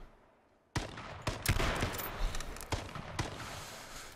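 Gunfire in the battle royale game H1Z1 erupts after a short quiet lead-in, a rapid run of sharp shots and bursts close by with uneven spacing, loud and dominating the rest of the clip.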